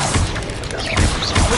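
Spell impacts from the video game Hogwarts Legacy, loud and dense, with repeated booming thuds and crashing blasts layered over a busy battle mix with faint whooshing effects.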